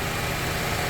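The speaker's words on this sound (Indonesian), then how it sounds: "Setelah selesai, suara mesin lebih halus," A Daihatsu Xenia 1000 car engine idling evenly up close after a tune-up, a smooth continuous rumble with no sputtering or changes in pitch.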